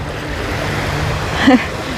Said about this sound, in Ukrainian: Ось такі хвилі у нас тут.